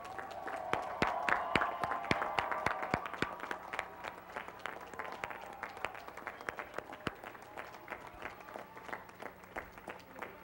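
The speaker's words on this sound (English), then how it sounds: "ask them to stand for a well-deserved round of applause." Sustained applause from a commencement audience at a university graduation ceremony, dense clapping that starts strong and gradually thins over about ten seconds, moderately distant in a large hall.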